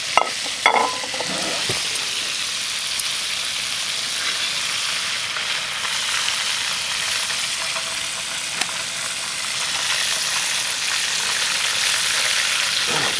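Chicken sizzles and fries steadily in a pan over a wood gas stove, a loud, continuous crackling hiss with a few sharp pops near the start and no talking.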